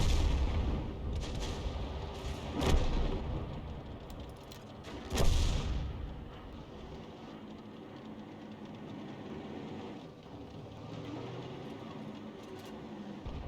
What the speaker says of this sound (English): the Grille is capable of lobbing a shell over the rock